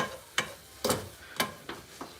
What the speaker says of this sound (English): we're gonna keep stirring this until it thickens